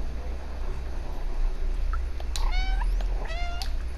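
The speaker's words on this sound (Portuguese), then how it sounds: "Miando." A cat in the game Stray meows twice in the second half, two short, bright mews about a second apart over a steady low ambient hum.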